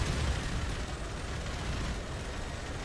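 Continuous dense gunfire and explosive blasts from a gun in an online shooting video game, a loud sustained roar of bursts with no talking.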